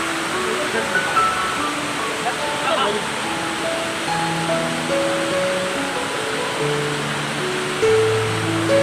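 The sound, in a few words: waterfall at Jatashankar, Junagadh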